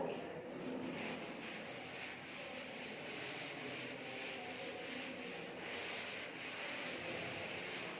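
A classroom board is wiped clean with steady, rhythmic rubbing strokes, a continuous close scrubbing sound with no talking over it.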